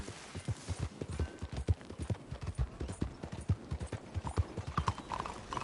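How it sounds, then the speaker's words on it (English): Steady clip-clop of horse hooves at a walking pace in the video game Red Dead Redemption 2, close and clear, with a faint background hum and no talking. "That's a nice hunk of horse."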